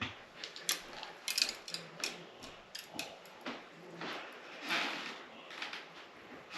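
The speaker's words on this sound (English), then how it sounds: "That's a little reel. Tighten it up." A small fishing reel being tightened onto a rod, giving quiet, close, irregular mechanical clicks and ratcheting ticks over a faint hiss.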